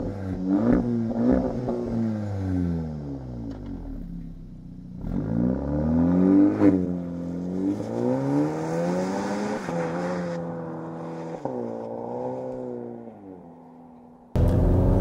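A 2020 Cupra Ateca sports SUV engine, 300 hp, revs up and down repeatedly while driving, its pitch rising and falling through several strong, close bursts, ending with a sudden louder roar.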